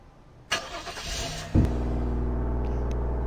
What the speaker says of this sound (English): Vehicle's a little loud.